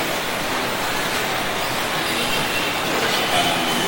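A train rolls through Gambir railway station in Jakarta, a dense broadband rush of wheels on rails with faint squealing, steady and moderately loud without speech.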